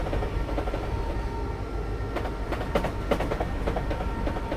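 A train rolls along in Dovetail's Train Simulator, a steady rumbling drone with a run of clickety-clack wheel beats over the rails growing denser toward the end.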